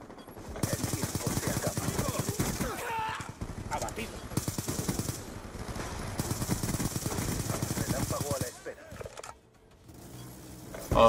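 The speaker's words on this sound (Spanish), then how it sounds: "¿Qué me dispara tanto, tío?" Rapid automatic gunfire in Call of Duty Black Ops 2 on the Nuketown map, loud sustained bursts broken by brief pauses, with someone talking over the shooting.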